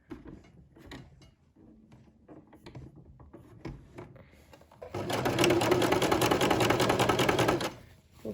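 A sewing machine stitching seams in fabric: scattered soft handling clicks and thumps first, then a loud, continuous mechanical whirring run for about three seconds before stopping.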